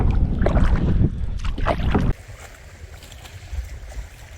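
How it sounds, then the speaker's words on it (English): Gusty wind buffets the microphone loudly for two seconds, then drops to a softer steady rush of wind outdoors at a campsite in Temagami. "you can tell it's still kind of windy out here"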